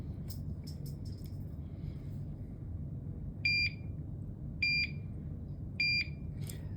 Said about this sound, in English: I'm just going to do this beeps and test.